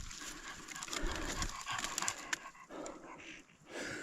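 Dogs on a hunt for hares in the Carpathian forest, panting and shuffling around close by, with rustling movement throughout and no talk.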